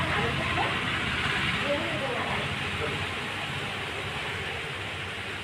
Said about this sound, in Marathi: बघा जोराचा वारा सुटलाय